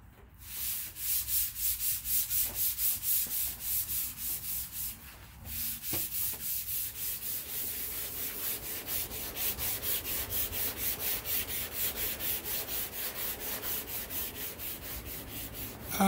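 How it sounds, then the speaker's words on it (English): Block sanding the roof of a box Chevy with a sunroof: steady, rhythmic back-and-forth rasping strokes, close and loud, continuing without pause through the whole stretch. "Gonna start blocking this roof."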